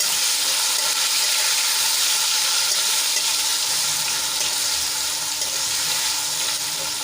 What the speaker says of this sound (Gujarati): બટેટાની થોડી ચડતા વાર લાગે એટલે આપણે એને પહેલા સાંતળી લઈશું